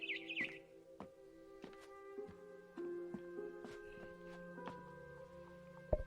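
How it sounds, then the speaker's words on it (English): Birds chirp outside a bedroom window at night in the video game What Remains of Edith Finch, scattered short tweets over a quiet sustained musical drone with soft thuds, no speech. "Then I heard chirping outside my window."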